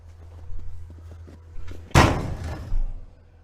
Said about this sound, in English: The door is an automatic latching quick latch with a screen door spring pulled